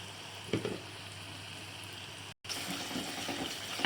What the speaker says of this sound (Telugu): కొంచెం అల్లం వెల్లుల్లి పేస్ట్ వేసుకుందాం.